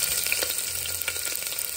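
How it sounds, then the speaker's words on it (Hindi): Onions frying in hot ghee give a brief, steady crackling sizzle, fairly close and unbroken, with no voices. "प्याज को फ्राई करते हैं"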